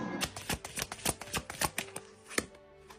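Fortune telling cards are handled and laid out, a quick run of crisp slaps and flicks in an uneven rhythm, close and fairly loud.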